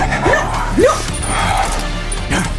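A voice imitates a dog, giving a few short yipping barks and whimpering yelps over background noise.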